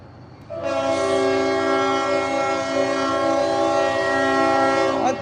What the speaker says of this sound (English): What the hell's all that honking for,